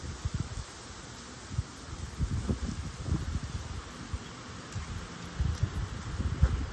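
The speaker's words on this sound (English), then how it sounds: "Eucalyptus trees blowing in the wind." Wind gusts through eucalyptus trees, a soft, uneven rustle of leaves with low rumbling buffets rising and falling throughout.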